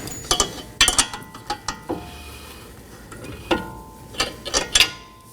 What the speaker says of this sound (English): And now to torque our axle nut.